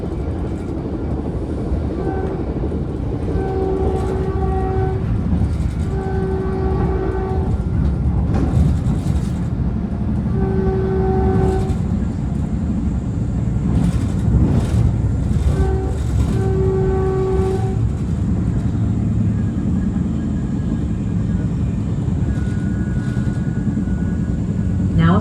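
A southbound Caltrain commuter train rumbles loudly along the rails near Millbrae, with repeated tonal horn-like blasts and rattling clatter throughout.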